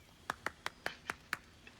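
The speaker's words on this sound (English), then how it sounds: "Adoring applause?" Six crisp, evenly spaced hand claps ring out in the video game Baldur's Gate 3, followed by one fainter seventh clap, each a short sharp smack over a quiet background.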